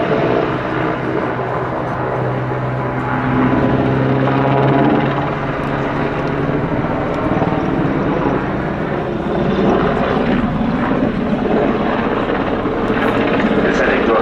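A Leonardo AW101 helicopter makes a low, fast final display pass at the RIAT airshow, a loud continuous rotor and turbine roar with rhythmic blade chop, close and sustained throughout while a commentator talks over it.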